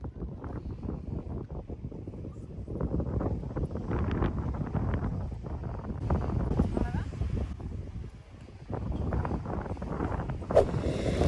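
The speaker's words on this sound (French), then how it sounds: "il y a quand même pas mal de vent aujourd'hui" Steady wind gusts buffet the microphone outdoors at a beach in the Algarve, a rough rumbling roar that rises and falls throughout.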